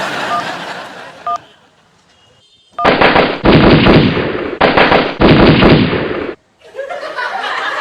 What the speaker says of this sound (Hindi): ये जो गोली की आवाज होती है ना